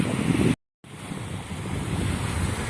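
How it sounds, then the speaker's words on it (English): Strong wind on the Atlantic coast buffets the microphone in a steady roar with surf-like rushing, broken by a brief cut to silence before the gusting resumes. "first of all, sorry about the wind, as always. This is the Atlantic coast."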